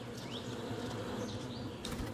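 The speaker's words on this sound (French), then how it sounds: "Les abeilles sont plutôt sauvages et sur la défensive." Wild honeybees buzz in a forest hive, a dense, continuous hum with individual bees whining past at close range and no voices.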